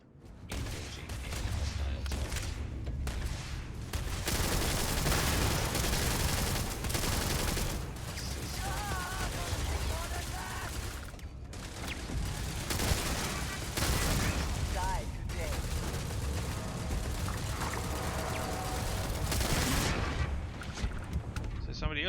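Sustained heavy gunfire in the Starfield video game, dense overlapping volleys and bursts filling the whole stretch with a few brief lulls, loud and close.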